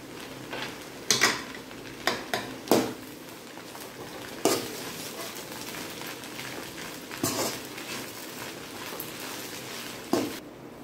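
Egg noodles with soy sauce and masala are stirred in a pan with a low sizzle underneath, while a utensil scrapes and clacks against the metal in irregular bursts; no talking.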